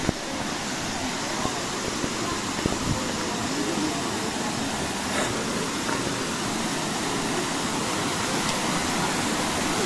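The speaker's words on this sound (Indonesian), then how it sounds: "sungai dan air terjunnya bertingkat dengan air berwarna biru kehijauan yang sangat jernih" Tiered waterfall and river at Lembah Tepus, with blue-green clear water, give a steady broadband rush of falling and flowing water, continuous and fairly loud throughout.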